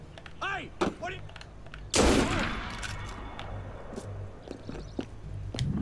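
A sharp, loud sniper rifle shot in Assassin's Creed Unity cracks out and rings into a long fading tail, preceded by brief voices and followed by quieter game sounds.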